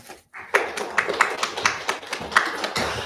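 Audience members clap at a town council meeting, a short burst of uneven hand claps from a small room crowd, fairly close and moderately loud.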